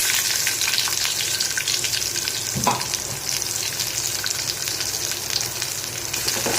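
Round-sliced ivy gourd sautéing in hot oil with mustard seeds and curry leaves, a loud constant frying hiss with one clunk of stirring midway, close up and uninterrupted by voices.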